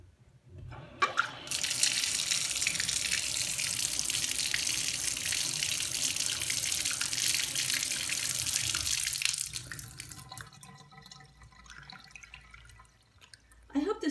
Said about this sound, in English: I'm gonna turn on the water